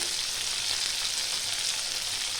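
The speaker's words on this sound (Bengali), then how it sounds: "টমেটোগুলো একটু হালকা করে ভেজে নেব।" Medium tomatoes with salt fry in hot oil in a pan for a Bengali rui fish mustard curry, giving a loud, steady, close sizzle throughout with no talk.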